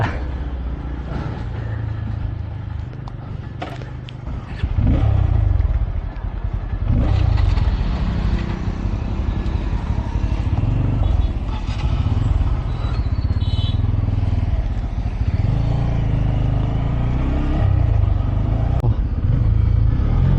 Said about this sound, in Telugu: ఇప్పుడైతే మనం పల్సర్ N250 అనమాట తోలుతున్నాం. దీని టాప్ స్పీడు ఫస్ట్ గేర్లో ఎంత స్పీడ్ పోతుంది ఏమనేది చూద్దాం.